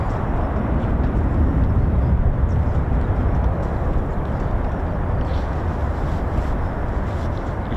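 A Boeing C-17 departs RAF Lakenheath, a loud continuous broadband jet roar that stays heavy and steady throughout, with no talk.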